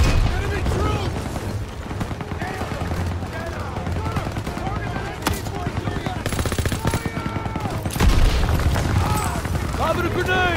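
An MG-42 machine gun nest firing in the World War II video game Call of Duty WW2, loud sustained automatic bursts mixed with explosions and battle noise, with shouting voices throughout.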